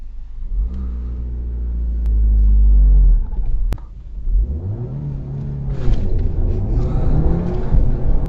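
A tuned 2009 Audi A5 2.0 TFSI sits in a deep loud idle-rev, then launches hard, its four-cylinder engine climbing through rising revs with a gear change and continuing to pull, heard from inside the car.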